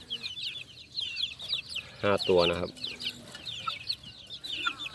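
Young fighting-cock chicks peep and cluck softly in a coop, with small scattered calls throughout and someone speaking briefly nearby.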